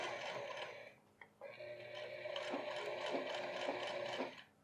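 Sewing machine topstitching along a seam edge on men's pants, running in a steady mechanical whir with rapid ticking stitches, pausing briefly near the start then continuing evenly before stopping.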